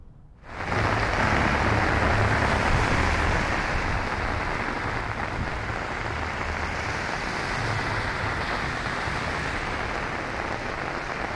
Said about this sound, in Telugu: ఈ భారీ వర్షం పడింది